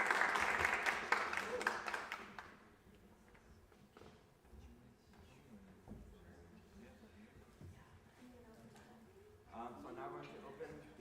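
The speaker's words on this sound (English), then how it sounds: "Okay, round of applause." A short burst of applause from people at a meeting opens the stretch and fades within a couple of seconds, then talking and quiet room noise follow, with a little clapping returning near the end.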